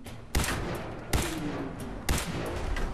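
Gunfire from enemies in the video game Fallout 4, a fight with super mutants: three loud sharp shot bursts roughly a second apart over a busy, rumbling battle background.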